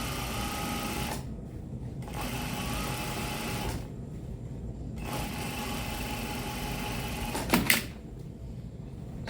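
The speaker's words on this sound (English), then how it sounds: "I run a 1/4 of an inch top stitching in here." A sewing machine runs top stitching on a shirt in three steady bursts of fast, even whirring, with brief pauses between them and a short clatter near the end.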